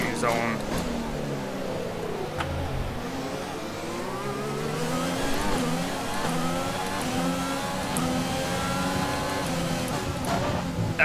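An F1 race car engine in the F1 2020 video game revs and shifts continuously, its pitch sweeping up and down as the car is driven hard without a front wing, with someone talking over it throughout.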